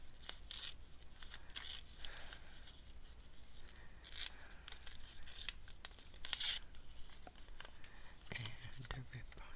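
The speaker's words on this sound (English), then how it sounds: "I think I want to do the rip on this one." Paper torn by hand for a junk journal collage, several short ripping bursts close to the mic alongside soft rustling and crinkling, with quiet speech heard in the background.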